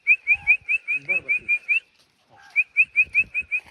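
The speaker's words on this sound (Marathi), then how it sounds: "जशी शिट्टी मारेन तसा डान्स करू लागला ते." A person whistles a rapid series of short, bright repeated notes to get a dog to dance, breaking off briefly before starting the quick rhythmic bursts again, close and clear.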